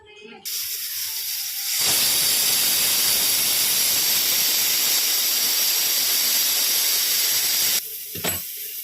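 A pressure cooker with mutton curry inside lets out a loud, sustained steam whistle that bursts in after a short hiss and holds for about six seconds before cutting off.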